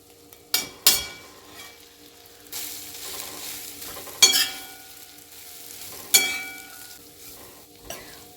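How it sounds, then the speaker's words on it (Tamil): Rice and cauliflower being mixed in a pan, with sharp clanks and scrapes of a spoon against the metal recurring every second or two over a faint sizzle, close and fairly loud. "இப்போ நம்ம ரைஸ் சேர்த்து மிக்ஸ் பண்ண வேண்டியது தான்."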